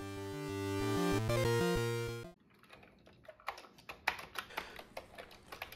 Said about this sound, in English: so let's get typing